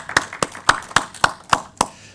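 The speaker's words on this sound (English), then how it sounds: "Can I have a round of applause for our panellists, please?" Several sharp, evenly spaced hand claps at a conference panel session, seven distinct strikes over two seconds rather than a dense crowd roar, close and fairly loud with no talk.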